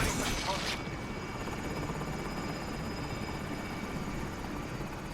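A helicopter in the video game Warzone whirs with a steady, loud rotor and engine drone that holds evenly throughout, with a brief burst of hiss at the start.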